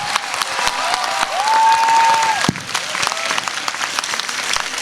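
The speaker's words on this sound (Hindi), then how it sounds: "अगर वास्तव में बच्चों की मेहनत अच्छी लगी तो उनके हिस्से की तालियां अभी आई नहीं है" An audience applauds a children's performance with brisk, dense clapping and some light cheering. It is fairly loud and swells toward the middle, and a sustained electronic tone briefly sounds over the clapping.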